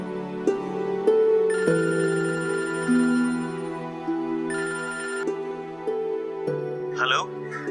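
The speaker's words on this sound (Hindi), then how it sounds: "आलम, तुम उसे फोन करो, उसे बहुत अच्छा लगेगा।" Telephone ringing for an incoming call in a Pakistani drama, a repeated electronic ringtone melody playing loud and close, with background music tones underneath.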